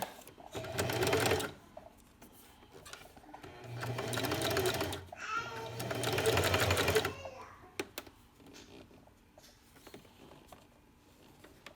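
A sewing machine stitches the zipper edging of a 0-3 month baby sleeper in three separate close bursts of rapid mechanical chatter, the later two longer, with pauses and light handling noise between.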